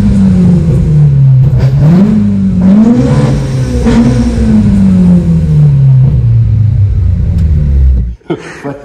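A Toyota Hilux fitted with a 3S-GE engine revs hard and close. Its loud exhaust note rises and falls through several throttle blips, then cuts off abruptly near the end.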